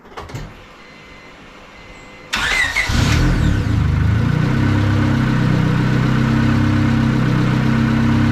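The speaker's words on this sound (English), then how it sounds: "I'm gonna fire it back up, let it run for a few minutes, get up to temp, and circulate some of this coolant." A turbocharged Honda Civic cranks and fires up close by after a quiet moment, then settles into a steady, loud idle with a low, even engine drone.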